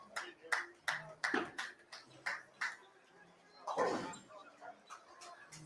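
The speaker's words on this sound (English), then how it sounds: "there's a big old bird dog." A big bird dog barks in a quick series of sharp, moderately faint woofs with short gaps during an outdoor doubles game, and a few voices are heard nearby.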